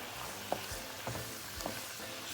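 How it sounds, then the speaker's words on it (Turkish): Chicken with garlic and spices sautés in a pan, a soft continuous sizzle broken by three brief clacks of stirring, close and quiet. "Şimdi ben kavurma işlemine devam edeceğim."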